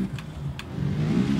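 Car engine revving at full throttle in the BeamNG.Drive driving game, a low mid-range engine drone building steadily in loudness over the short span.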